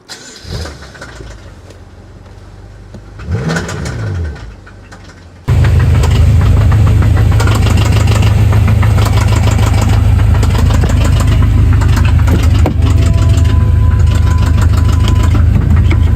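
A used high-performance car engine cranking and firing up, then settling into a loud, rough, uneven idle close by, with a harsh roar that sounds unhealthy; no talking.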